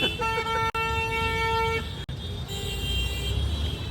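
Steady car horn tones blare over a constant roar of jammed road traffic in Varanasi, then a second, higher horn joins later, with sharp clicks breaking through.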